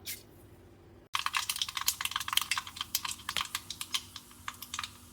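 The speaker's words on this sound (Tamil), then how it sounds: "எண்ணெய் காஞ்செடுத்து முதல்ல கடுகு போட்டுடுறோம்" Mustard seeds spluttering in hot oil for temple-style tamarind rice: a dense run of sharp, crackling pops that bursts in suddenly after a second of quiet sizzle, close and lively, with no talking.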